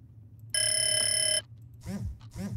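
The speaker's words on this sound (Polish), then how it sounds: "Gdzie jest ten telefon? Słyszę go już któryś raz." A telephone rings once in a burst of bright, steady electronic bell tone inside the horror video game Ghost Exile, followed by a man's speech.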